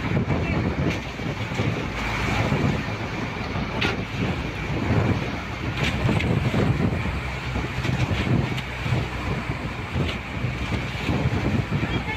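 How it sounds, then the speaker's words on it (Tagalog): Strong wind at sea roars continuously against the microphone, a dense unbroken rush with low rumbling gusts and no pauses. "Lakas ng hangin."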